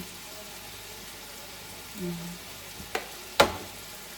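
Softened potato pieces fry in a pan with a steady, close, even sizzle, broken by a couple of sharp utensil clicks near the end.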